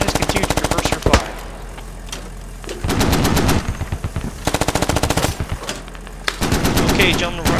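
Marine .50 caliber machine gun and Mk19 grenade launcher lay down suppressive fire as a combined anti-armor team, loud close bursts of rapid automatic fire broken by short pauses and heavier booming reports.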